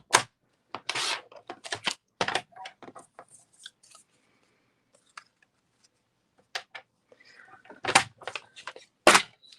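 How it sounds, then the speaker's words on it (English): A paper trimmer slices through card stock in short, quiet scraping strokes, with taps and rustles scattered through a near-silent room. "while we have the trimmer out, we're going to cut out our "Let's Celebrate You.""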